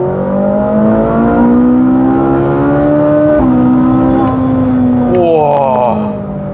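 A Ferrari 458 Italia Spider's flat-plane-crank V8 revs hard and close, a loud rising wail climbing through the range, a brief dip at a shift, then pulling higher again.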